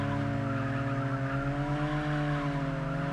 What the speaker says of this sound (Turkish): Drifte de bastım, şey nitroya da bastım.